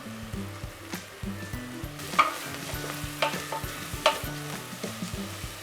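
Ginger-garlic paste and green chillies sauté in a hot pan, crackling and sizzling steadily under repeated stirring scrapes, close and fairly loud with no talk.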